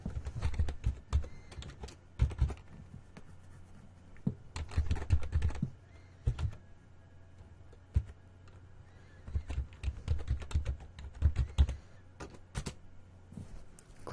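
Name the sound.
typing a website address on a computer keyboard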